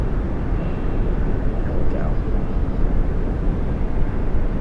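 An airliner takes off from runway 18 left at DFW airport at night, a loud, steady, broadband jet roar that holds level throughout.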